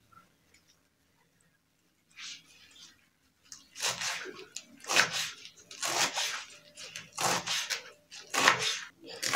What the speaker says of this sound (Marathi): आणि बारीक चिरून घ्यायची आहे मेथी।